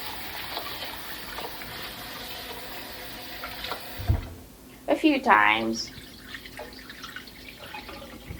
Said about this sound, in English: this is very specific to Japanese way of preparing rice, not any other country. So I'm going to rinse this now.